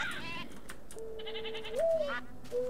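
A goat bleats in a Technic modpack video game, several short wavering bleats close by over a quiet background.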